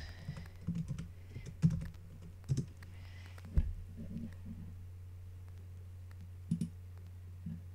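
A few short bursts of light clicks from a computer keyboard as tags are typed, soft and close over a steady low hum, with long quiet stretches between the keystrokes.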